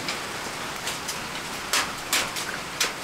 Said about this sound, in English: And it just keeps hailing.